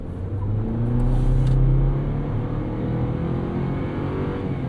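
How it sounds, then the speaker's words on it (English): A 2023 Chevrolet Colorado Trail Boss pickup accelerates hard onto a road, its engine droning and swelling with a loud rising rumble that briefly peaks, then holds a steady whirring roar. "Getting out onto the road there, you can see that torque, and this thing actually struggles to put all of its power down"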